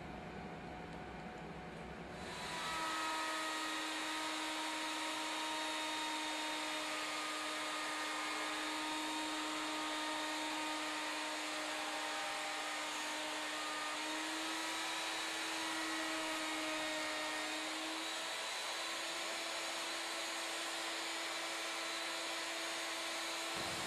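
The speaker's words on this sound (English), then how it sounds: "Next, we switch to a 2-inch diameter core box bit to mill the contoured section." A CNC router spindle with a 2-inch core box bit mills the contoured section of a Native American flute. A steady, droning whine with a constant hum starts abruptly after a brief lower rumble and shifts slightly in pitch midway.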